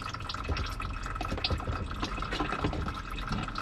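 Differential fluid from a 2022 Honda HR-V pours in a steady, continuous stream, a close, even liquid rush with light dripping and splashing throughout, no voices.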